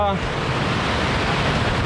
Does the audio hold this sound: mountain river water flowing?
yes